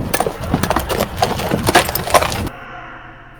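A voice imitates the clanking of someone walking in heavy armor, a busy run of dense clattering, rattling noise for about two and a half seconds that stops abruptly, leaving quiet room tone.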